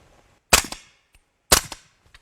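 Two sharp, loud suppressed centerfire rifle shots about a second apart, each a crisp crack with a short decaying tail, in an otherwise quiet setting.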